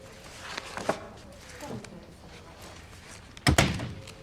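A sharp, solid thunk of a door closing near the end, after quiet room tone and faint shuffling sounds.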